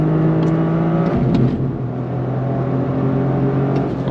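A 2023 Toyota GR Corolla accelerates in fourth gear, its engine giving a steady loud droning rise under road and wind noise, heard from inside the car.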